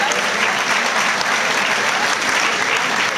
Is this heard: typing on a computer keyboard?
no